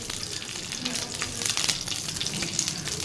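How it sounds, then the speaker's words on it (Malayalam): Mustard seeds frying and sizzling in hot oil as the first step of a beetroot kichadi, a steady dense crackle and hiss with small pops throughout, close and alone with no talk. "കടുക് വറുത്തിടുക."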